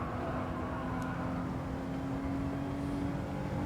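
A race car in Gran Turismo 7 holds a steady, droning engine note at moderate volume, with a sustained whine and rumbling road noise throughout and no voices.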